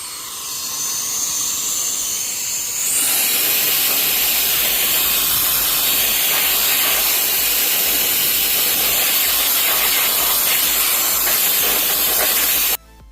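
A USB-C rechargeable air blower starts with a rising whine, then roars into a loud, steady jet-like hiss as it blows dirt off an RC car, running continuously before stopping abruptly with no talking.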